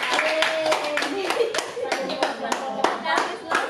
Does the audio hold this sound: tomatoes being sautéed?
no